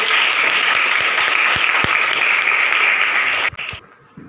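Classroom applause from students during a lesson, a steady wash of clapping with a few louder close claps, cutting off abruptly near the end.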